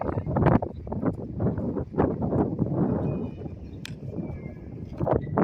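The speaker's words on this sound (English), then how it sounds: "Very windy day." Gusting wind buffets the microphone in rough, uneven rumbles, with a few faint clicks and knocks underneath.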